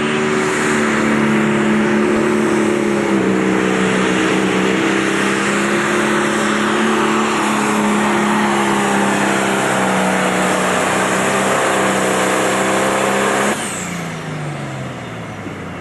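A heavy pulling-tractor engine at a 10,000-pound pro stock tractor pull at the 1992 Ohio State Fair roars loudly and continuously, its pitch climbing slowly under strain before dropping off sharply near the end.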